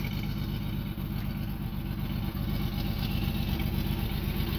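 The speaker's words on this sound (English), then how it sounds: "You can hear a little bit of exhaust noise." A steady, low rumbling exhaust from a 2003 Jeep Liberty at idle, constant and unbroken with a faint pulsing throb, close by and fairly loud.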